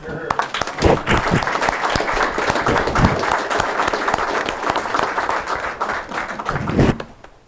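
Audience at a county Board of Supervisors meeting applauds veterans in a sustained, dense round of clapping that holds steady for several seconds before tapering off at the end.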